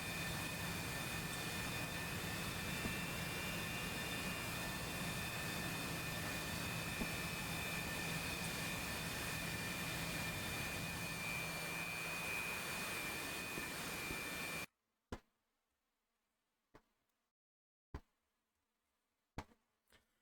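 F-16 and Su-27 jet engines in a flight simulation game roar as a loud, steady whine with a high tonal edge for most of the stretch, then cut off, leaving a few sharp isolated clicks in near silence.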